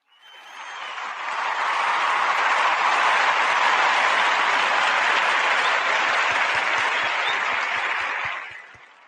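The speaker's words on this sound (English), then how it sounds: "Let me give all of you a clap right now, too." Crowd applause swells in, holds as a loud, dense, steady wall of clapping for several seconds, then tapers off with a few final individual claps near the end.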